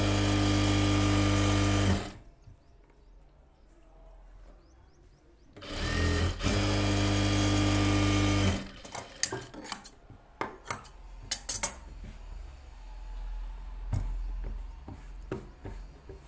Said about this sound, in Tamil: இப்போ ஒரு அமுக்கு தையல் போட்டுக்கோங்க.